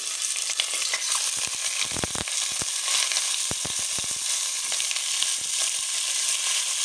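Chicken frying in a little oil in a pot, a steady close sizzle with occasional sharp crackles and stirring clatters, no talking.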